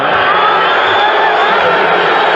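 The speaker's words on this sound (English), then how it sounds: "Listen to the crowd here." A basketball arena crowd at a 1982 NBA game between the Bucks and Spurs roars loudly and steadily, a dense wash of cheering that fills the whole moment without breaks.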